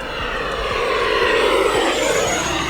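An E-flite F-18 Blue Angels 80mm electric ducted-fan RC jet screams at full throttle, a loud, steady high-pitched whine that rises slightly in pitch as it passes fairly close.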